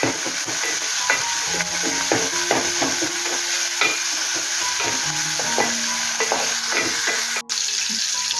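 Tomato fries in a hot pan for a drumstick curry, with a steady sizzle under repeated scraping and clinking of a spoon stirring against metal, close and continuous.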